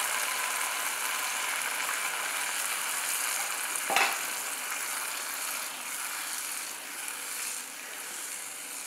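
Tamarind water sizzling in a hot pan while cooking a Pongal dish, a steady broad hiss throughout with a brief sharper crackle midway, no talking.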